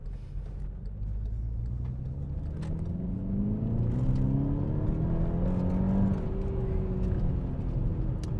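A Volkswagen Scirocco engine accelerates steadily from inside the car, its note rising through the gears as a loud, continuous hum with a faint voice over it.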